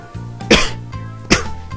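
Two sharp, loud bursts like sneezes or coughs from a character in the Nintendo 64 game Mystical Ninja: Starring Goemon, spaced under a second apart over a low game-music background.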